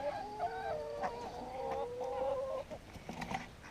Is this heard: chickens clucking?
yes